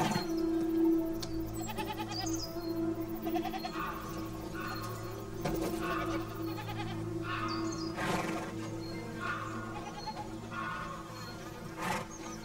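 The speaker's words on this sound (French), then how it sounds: "Personne s'occupe des chèvres, là!" A herd of goats bleats on and off, several wavering cries from different distances over a soft outdoor backdrop with occasional knocks.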